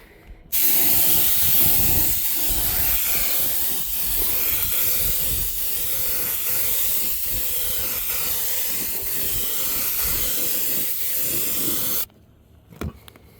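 A spray gun coats a Humvee rear AC evaporator box in a long, steady hiss with faint rhythmic pulses, cutting off abruptly near the end before a few soft knocks.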